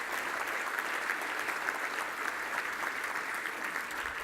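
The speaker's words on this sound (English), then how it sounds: "let's give Quest a big round of applause for putting on such a great event" Sustained applause from an audience at an investor event, a dense uniform roar of clapping that stays level throughout with no voices breaking through.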